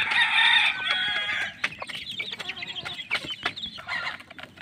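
Chickens on a farm make busy clucking and chirping sounds while eating feed from a trough, with dense repeated calls at the start and scattered clucks throughout, close and fairly loud.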